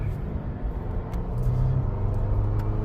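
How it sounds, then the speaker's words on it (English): A car with a quiet exhaust note rumbles low and steady nearby, with a slight rise in engine tone midway and no talking. "So there, you can barely hear that car."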